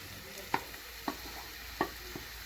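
Half a kilo of minced meat fries in a pan for hawawshi, a faint sizzle broken by a few sharp scraping stirs of a utensil at regular intervals, no talking.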